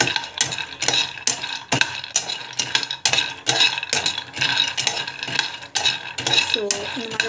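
Almonds roasting in a pan, stirred briskly so the nuts rattle and clatter against the metal in quick, repeated close strokes with faint sizzling beneath.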